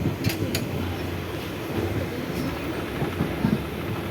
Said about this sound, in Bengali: এক রেল থেকে আরেক রেলে ক্রসিং করছে।